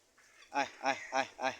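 Fayoumi chickens giving four evenly spaced, loud, nasal calls in quick succession at close range, each a short harmonic squawk, with no one speaking over them.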